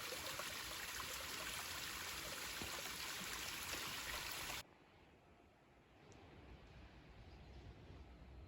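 Small mountain stream on a backpacking trail near Pictured Rocks, a steady rushing flow that cuts abruptly to a quieter, softer trickle halfway through, with no talking.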